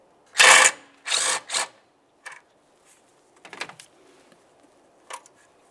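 A ratchet removes a 10 mm bolt holding the oil dipstick tube to the intake of a 2005-2010 Dodge Dakota: loud, close bursts of rapid clicking, then smaller scattered ticks and clicks with pauses between.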